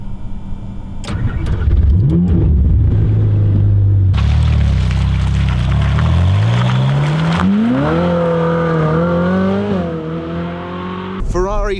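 Ferrari 458 Speciale Aperta V8 fires up and revs, rising sharply in pitch several times, loud and close, with a final sharp blip at the end; a voice speaks over parts of it.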